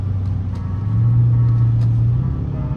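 A Dodge Charger R/T drives through snow, its engine a steady low rumble heard from inside the car, swelling slightly partway through with faint ticks over the top.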